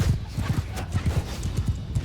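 Cavalry horses gallop in the Mount & Blade II Bannerlord video game, a rapid, steady drumming of hooves up close with faint whinnies and battle noise behind.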